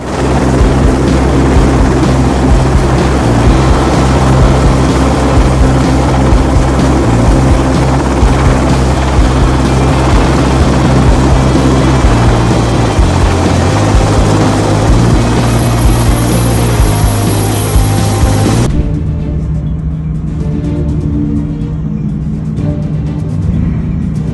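A helicopter flies and lands on a moving carrier in strong turbulence, its rotor and engine roaring loud and continuous, then the whine drops abruptly near the end as it settles, with no talk.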